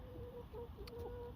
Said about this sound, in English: lovely friendly chickens. We've got 5, if I'm right, 5 hens here